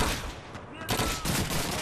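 Gunfire crackles in Call of Duty 2 on a dockside level, a dense, loud burst of rapid shots that keeps going through the short stretch.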